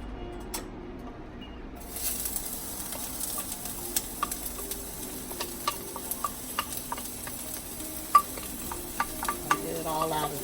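Shallot, onion and garlic sautéing in a pan, a steady sizzle that starts after a brief quiet moment, dotted with light ticks and clinks of a utensil stirring.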